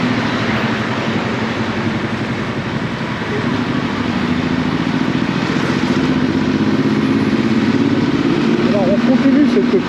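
A new Chinese motorcycle engine drones loudly and continuously while riding through Antananarivo, Madagascar, pitch climbing slightly toward the end, with wind rush and a voice talking over it.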